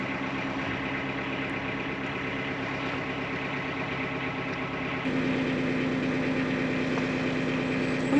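Narrowboat diesel engine idling steadily while warming up, a close, even mid-pitched rumble that grows slightly louder and fuller partway through.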